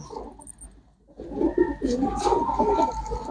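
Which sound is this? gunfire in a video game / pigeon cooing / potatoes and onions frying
pigeon cooing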